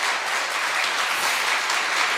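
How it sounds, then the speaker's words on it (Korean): A church congregation claps in steady, dense applause, sustained throughout at an even loudness without any voices standing out. "우리 인사하실 때 큰 박수로 수고하셨습니다"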